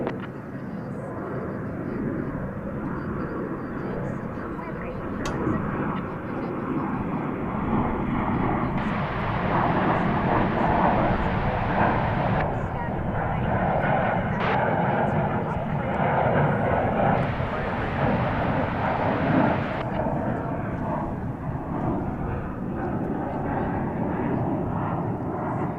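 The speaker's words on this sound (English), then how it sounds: "it's always good to have the A380 back at DFW" An Airbus A380 at DFW Airport gives off a sustained, loud jet-engine roar that swells in the middle and stays strong throughout, with a voice talking over it at times.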